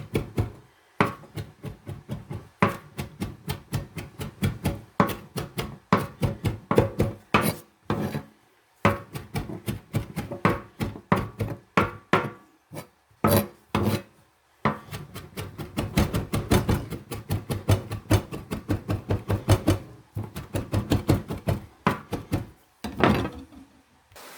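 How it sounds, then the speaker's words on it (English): Mushrooms are roughly chopped with a knife on a wooden board in a long run of rapid, close, sharp thuds that come in bursts with short pauses between them. "you're going to give it a rough chop"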